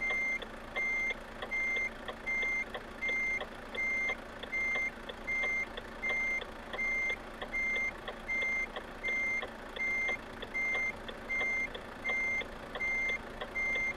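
Reversing beeps from a truck in Euro Truck Simulator 2 sound in a steady, evenly spaced series of about a dozen loud electronic tones, each paired with a softer echo pulse, over a continuous low engine rumble.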